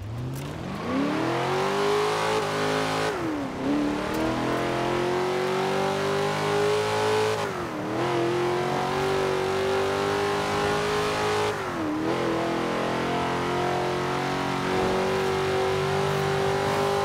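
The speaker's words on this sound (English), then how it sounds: "There we go, so there's the engine sound." A car engine in the video game Forza Horizon 4 drones and climbs in pitch, dropping briefly at each gear change before rising again, steady and close with no voices.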